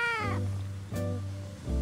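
A cat gives two or three drawn-out meows in quick succession, close and clear with no talking, like a storybook sound effect.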